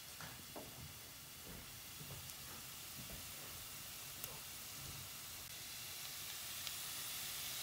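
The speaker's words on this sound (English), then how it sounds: "So we're letting the garlic oil simmer in the olive oil for several minutes." Garlic cooking in olive oil in a pan over medium-low heat for gambas al ajillo gives a faint, steady sizzle and hiss, with a few soft clicks and bumps scattered through it.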